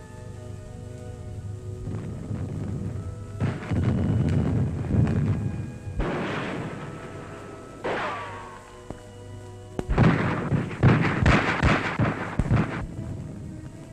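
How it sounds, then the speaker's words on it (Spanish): Mortar fire in a Spanish Civil War battle, with infantry and tanks advancing, comes as a series of heavy, booming blasts at irregular intervals, some rumbling and some sharper, over a constant low hum of old film noise. "Los morteros auxilian eficazmente el avance de nuestra infantería"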